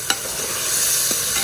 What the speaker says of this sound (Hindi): अब हम इसमें ऐड करेंगे चिकन।